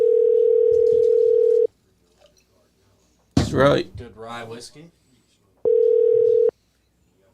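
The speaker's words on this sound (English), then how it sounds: "I'm gonna call him right now." A steady telephone dial tone hums loud and close while a call is placed, cutting out as someone speaks briefly, then returning for a second short stretch.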